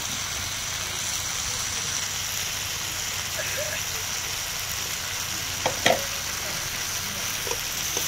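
Fried shrimp and guri kochu taro being sautéed together in a pan, a steady soft sizzle and stirring scrape with a couple of brief utensil clinks, no talk.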